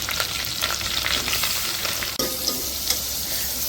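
Spices sizzle in hot oil for a kadhi tempering with a loud, dense crackle, accompanied by a brief clatter and stirring noises near the middle. No one speaks.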